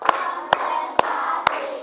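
An audience in a teacher-training session claps in unison on command, four sharp, evenly spaced claps about half a second apart, close and crisp over a steady background murmur.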